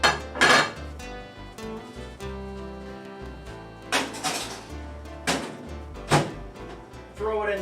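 A dish is picked up in a home kitchen, with a few clinks and thunks of dishware against a counter amid quiet handling noises, set against a low background hum.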